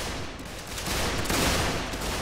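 A volley of rifle fire rolls out as a dense, continuous crackle of overlapping shots. It sounds fairly loud and close and carries steadily for the full two seconds.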